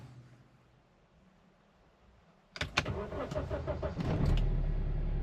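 JAC T6 pickup engine starting: a quiet hum, then a sudden starter crank and catch about halfway through, settling into a loud, steady idle that rises slightly near the end. No talking.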